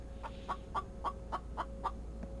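Chickens clucking in The Infected survival video game, a steady series of about seven short, evenly spaced clucks over a low background hum, moderately loud and alone.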